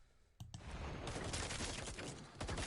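Rapid automatic gunfire in a competitive online shooter match: a sharp burst erupts, then sustained loud volleys of overlapping shots continue without pause.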